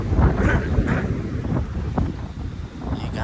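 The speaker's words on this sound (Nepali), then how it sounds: "कस्तो दामी हावा चलिरहेको" Gusty wind blowing outdoors in Romania buffets the microphone with loud, uneven rushes of broadband noise that swell and ease across the moment.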